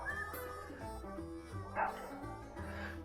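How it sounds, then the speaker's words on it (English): Coyotes howl far off at night during a coyote hunting tournament, a faint, continuous chorus of wavering, overlapping howls with no talk over it. "we're already hearing some dogs howling off in the distance"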